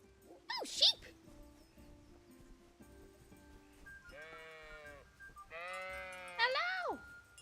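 Sheep bleating in a farming video game, several wavering bleats spread across the moment, with a person's voice imitating the bleats near the start and end.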